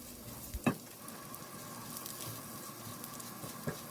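Parboiled long grain rice being stirred in a pot gives a faint, soft rustling patter with a couple of light scrapes of a spoon against the pot.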